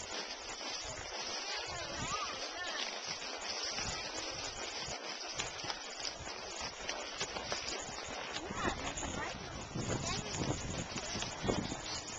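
Horse hooves clip-clop at a steady walking rhythm on an Oregon trail ride, fairly close and continuous over outdoor background noise.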